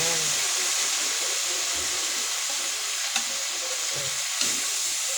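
Corned beef and diced bottle gourd sizzle in a hot pan with a steady, bright frying hiss, while a utensil stirs and scrapes with a couple of soft clinks against the pan.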